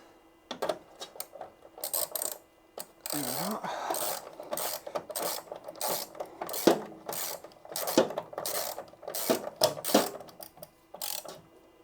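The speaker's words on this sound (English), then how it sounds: "these nuts need to be done up to 7 Newton meters" Nuts being done up with a wrench on a solar system mount: repeated ratcheting clicks and short metallic rasping strokes in uneven bursts, close and fairly loud, with no talking.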